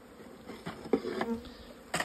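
Honey bees buzzing faintly and close by during a package bee install into a hive, with soft intermittent buzzes and small knocks.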